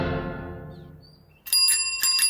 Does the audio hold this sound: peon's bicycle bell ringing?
yes